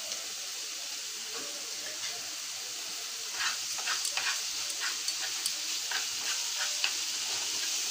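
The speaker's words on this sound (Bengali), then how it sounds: "এখানে আমি সব মরিচ মশলা দিয়ে এখন ভালো করে কষিয়ে নিচ্ছি।" Chili, turmeric and ginger-garlic-onion paste fry in oil for a fish curry, giving a steady sizzle. Stirring scrapes and clicks join in partway through, close and with no talk over them.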